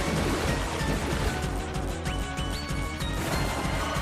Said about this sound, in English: Wailord going for a waterfall.